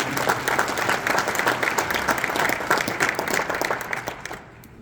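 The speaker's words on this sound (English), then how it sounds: "So please give Bob Rathman and Steve Holman a round of applause" A crowd applauding steadily, dense clapping that holds at an even level and then fades away near the end.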